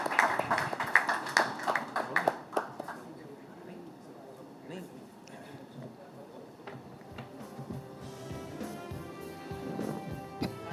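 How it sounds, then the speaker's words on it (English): Audience applause at an award ceremony, a burst of clapping in the first few seconds that fades out, followed by quieter room sound with faint music. "Ladies and gentlemen, a round of applause before the acceptance."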